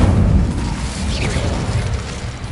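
A fiery blast from the Incendio spell cast in a Hogwarts video game, a loud booming whoosh with a heavy low rumble that opens strongly and settles into a sustained roar.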